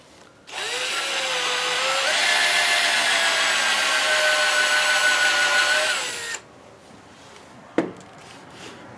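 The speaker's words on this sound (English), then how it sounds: "I'm going to drill it little by little because I don't want to go all the way through here." A power drill with a 1/4 inch brad point bit bores into wood in a single loud, sustained burst of about six seconds, the motor pitch climbing and then holding steady before cutting off, followed by a short knock.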